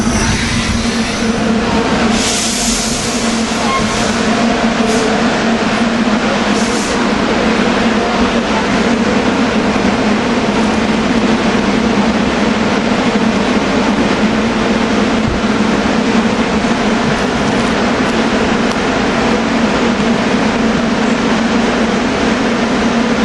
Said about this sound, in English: This is train 9526. Express to Center City